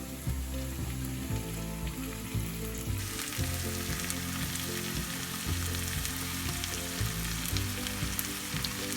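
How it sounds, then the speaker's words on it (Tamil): Marinated chicken pieces frying in ghee for a chicken ghee roast, a dense continuous sizzle that surges louder partway through as more pieces hit the hot fat, with background music playing beneath. "இப்போ நம்ம மசாலா போட்டு வச்சுருக்க சிக்கன் பீசஸை ஒன்று ஒன்றா அதில் சேர்த்துடலாம்."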